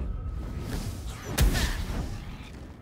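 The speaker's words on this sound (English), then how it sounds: "Such a big explosion for a complete miss." A loud explosion in Baldur's Gate 3 erupts mid-clip as a sharp, booming burst over a steady game background, trailing off in a rumbling wash.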